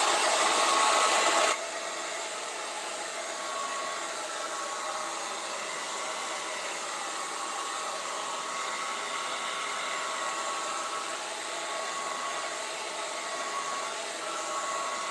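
A hair dryer blows steadily on acrylic paint, first a short louder burst and then a constant whooshing hum with a faint whine that continues unbroken and close by.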